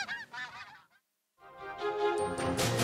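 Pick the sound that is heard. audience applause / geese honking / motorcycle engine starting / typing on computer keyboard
geese honking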